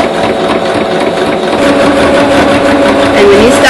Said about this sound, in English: So I'm making sure that my first stitch hits right on the line, sewing with a straight stitch